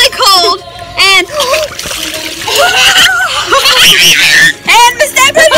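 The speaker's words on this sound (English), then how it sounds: "We're having a water war." Water splashes loudly during a water gun fight while people swim in cold water, with irregular close splashes and squirts mixed with children's excited voices, giggles and laughter.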